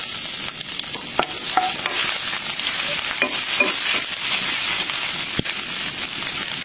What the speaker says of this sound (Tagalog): Tapos, nagisa na tayo dito ng luya.